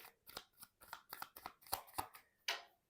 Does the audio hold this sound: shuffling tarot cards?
yes